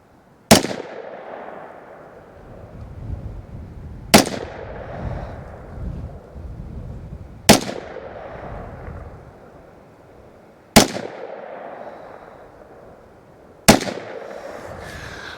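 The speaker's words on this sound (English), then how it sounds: "let's do 5 more shots on it and see what we can get" Five KelTec CMR30 rifle shots ring out one at a time, evenly spaced about three seconds apart. Each crack is loud and close, with a short echoing tail and no talking.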